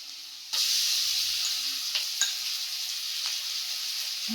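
Onion paste drops into hot oil and sets off a sudden loud sizzle that starts abruptly and stays strong and steady. A few faint utensil clicks follow, and no one speaks.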